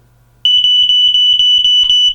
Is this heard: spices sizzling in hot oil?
no